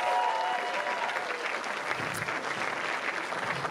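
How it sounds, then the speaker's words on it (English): A live theater audience at a magic comedy podcast taping claps steadily, a dense, even wash of applause from a crowd that carries on for several seconds without speech. "Give him a big round of applause."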